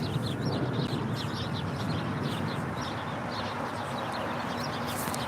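Small birds chirp outdoors at LAX airport, a series of quick repeated high twitters scattered over a loud constant roar of background airport and engine noise, with no one speaking.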